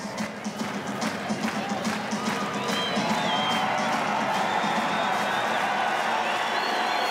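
A crowd of about 5,500 at a college wrestling dual between Iowa and Oklahoma State in Carver-Hawkeye Arena roars steadily, cheering and clapping blending into a continuous loud wash throughout.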